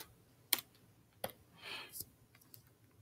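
A few scattered keyboard clicks while typing numbers for a math lesson, quiet and irregular, with brief sharp taps and one softer rustling burst.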